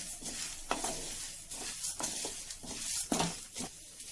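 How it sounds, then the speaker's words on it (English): Coriander seeds scraped and stirred around a hot pan in repeated strokes as they roast, with a soft sizzle and light rattling, close up. "let's add the coriander seeds and let's give it a mix."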